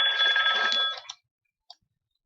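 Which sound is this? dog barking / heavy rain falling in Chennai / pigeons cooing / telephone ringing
telephone ringing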